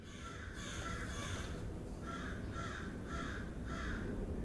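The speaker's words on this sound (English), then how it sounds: "Oh, there's birds." Crows caw outdoors in a steady series of harsh calls, about seven in all, at a moderate distance over a low background rumble, with no talking.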